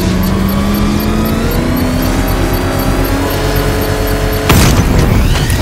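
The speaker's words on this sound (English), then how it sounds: "I can use the power winch to trigger a controlled explosion." In Batman: Arkham Knight, a power winch triggers a controlled explosion: steady loud engine and mechanical whine build for several seconds, then a sudden heavy blast erupts near the end with a rumbling tail.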